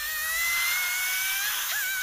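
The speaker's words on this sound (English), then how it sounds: "Oh, he's actually made a little drill." A small handmade drill in the Dr. Stone anime whirs with a steady, high-pitched whine, loud and close, its pitch dipping briefly near the end.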